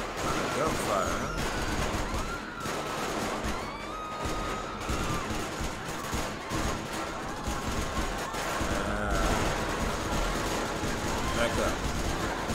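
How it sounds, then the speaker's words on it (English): Rapid bursts of GTA 5 gunfire crackle continuously, with voices talking over the steady barrage of shots. "A lot of gunfire"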